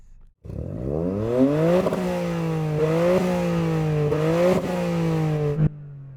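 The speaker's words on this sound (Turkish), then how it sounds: "Evet vites takılı değilken motor çalışabilmen güzel." Modified car engine revving in neutral at a drag race meet, loud and close: a rising roar that holds and then swells again in several repeated blips before cutting off, with no talk over it.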